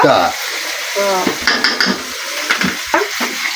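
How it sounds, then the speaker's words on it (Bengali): Fish sizzles and spits in a hot pan in a home kitchen, with scraping stirs and light clinks of utensils against the pan, close and busy, while a voice speaks briefly. "মাছ ভাজা হয়ে যাচ্ছে"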